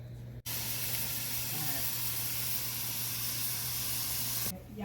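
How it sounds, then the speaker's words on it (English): Hamburger meat fries in a pan with a loud, steady sizzle and hiss that starts abruptly and runs almost the whole time before cutting off near the end. "Okay, I'm going to start by frying some hamburger."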